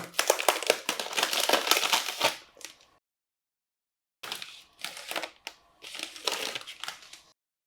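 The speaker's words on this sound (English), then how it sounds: "Let's open the Gateway Fiber. Really nice packaging." Packaging of a Unifi Cloud Gateway Fiber router being opened, heard as close crinkling and crunching of plastic and cardboard in two bursts separated by a brief silence.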